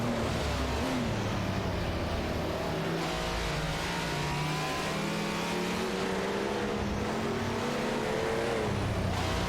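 Several race car engines, including a Ferrari 312 PB and a Renault Alpine 442B, roar loudly and continuously in a racing video game, with rising and falling revs and overlapping cars passing through the mix.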